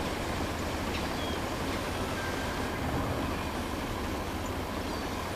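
Ruston & Hornsby class 07 diesel shunter drawing a train of wagons out of sidings, a steady dense rumble of rolling stock and engine filling the whole span at moderate level, no voices.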